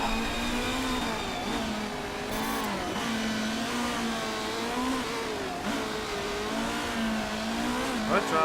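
Race car engines howl continuously through a flying lap in the Motorsport Manager racing game, steady revving with rising and falling pitch sweeps as cars accelerate and shift, loud and unbroken throughout.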